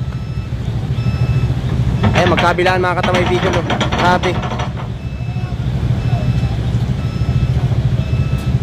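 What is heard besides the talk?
heavy road traffic in Lupi, Camarines Sur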